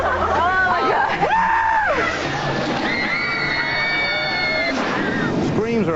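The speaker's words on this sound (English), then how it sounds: "Screams are a great sign on thrill rides." Riders scream on a thrill ride, with several rising and falling shrieks, loud and overlapping, amid a noisy crowd and ride rumble.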